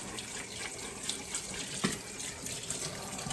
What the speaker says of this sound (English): I'll wash this with soap just to keep it clean.